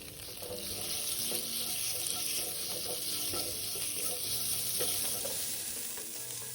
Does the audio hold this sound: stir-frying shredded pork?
yes